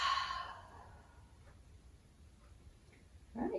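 A long breathy exhale through the mouth during a Pilates stretch, close and soft at the start, followed by quiet room tone and another brief breath at the end.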